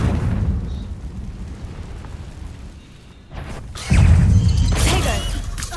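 A Confringo fire spell detonates in Hogwarts Legacy, a loud burst of fiery blast rushing in and then a sustained roaring rumble that carries on to the end, following a quieter stretch of game ambience.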